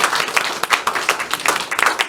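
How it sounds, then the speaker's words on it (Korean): A church congregation claps together at a ministers' meeting sermon, a dense, lively burst of many hands with brisk irregular slaps, close and loud for the whole stretch, with no speech over it. "우리 서로를 위해서 박수 칩시다."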